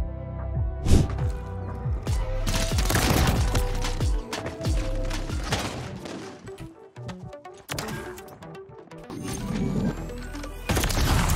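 Sniper rifle shots in Call of Duty: Modern Warrior 3 Search and Destroy, several sharp loud cracks and booms scattered through dense game noise with musical tones, firing at irregular intervals.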